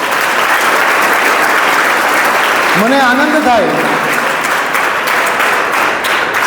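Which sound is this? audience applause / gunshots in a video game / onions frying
audience applause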